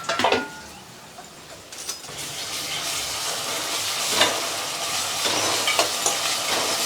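Ginger garlic paste fries in a pan, giving a steady hiss with a few louder spatters and the scrape of stirring.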